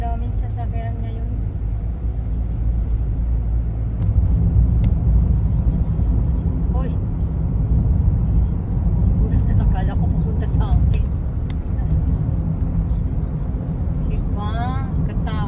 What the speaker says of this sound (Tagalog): Ang daming sasakyan ngayon.